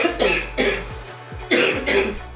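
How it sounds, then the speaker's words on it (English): A woman coughs in four separate harsh bursts, evenly spaced and close to the listener, with a low steady hum running underneath. "I can't afford to be coughing today"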